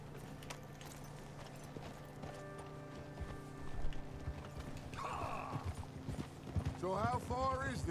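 Horse hooves clop in a steady galloping rhythm in the video game Red Dead Redemption 2, over a backdrop of music, with voices speaking intermittently toward the end.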